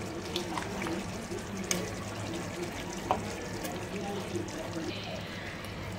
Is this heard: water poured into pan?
yes